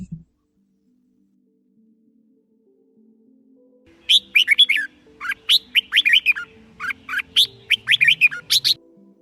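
A red-whiskered bulbul sings in short, bright, whistled phrases, repeated in a lively rhythm after a few seconds of near silence, clear and fairly close with a faint low hum beneath.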